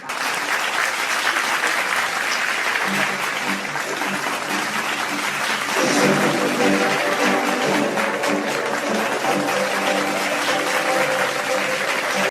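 Audience at an alumni meet of LTIPS Pune and LTIP Kharghar gives sustained, even applause, a dense patter of many hands that swells midway, with a speaker's voice partly over it.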